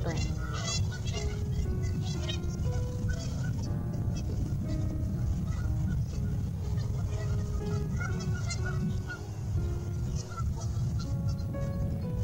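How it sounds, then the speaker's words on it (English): Canada geese honking at the Discovery Nature Sanctuary in spring (late April), a chorus of repeated nasal calls from several birds, fairly close and continuous over a steady outdoor background. "Most Canada geese do mate for life"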